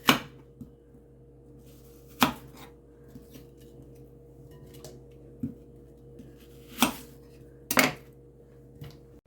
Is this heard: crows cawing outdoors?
no